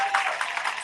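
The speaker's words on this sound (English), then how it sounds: "will we please clap for the students that are part of the Center for Academic Excellence program" A college honors convocation audience claps briefly for students, a dense burst of many hands ringing out in a hall for under a second.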